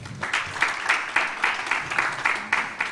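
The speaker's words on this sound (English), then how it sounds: "A round of applause for him, please." An audience at a conference gives a round of applause, with a quiet, steady pattern of clapping from a modest crowd.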